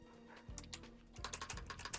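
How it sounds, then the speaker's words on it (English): Fast, furious typing on a computer keyboard during a game session, close clattering keystrokes in irregular bursts that grow denser in the second half, with no voices. "If you could hear me furiously hitting the keyboard."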